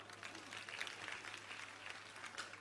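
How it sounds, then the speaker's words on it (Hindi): Distant audience clapping at a religious discourse, a soft, continuous patter of many hands over a steady low hum, faint and even throughout. "ताली बजाओ।"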